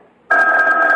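A telephone bell rings suddenly in a quiet house late at night, a loud, close, sustained electric trill in an old radio drama.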